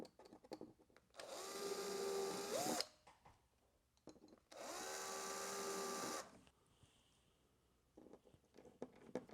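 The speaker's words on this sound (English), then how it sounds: "And now I will drill the second hole in this door." Two sustained bursts of a power drill running steadily while boring a hinge hole in a radio-controlled model door, with quiet tapping and handling noises between and after.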